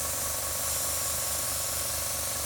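An airbrush blasts thinner out at high pressure while being cleaned, giving a loud, continuous close-up hiss of spray with no pauses.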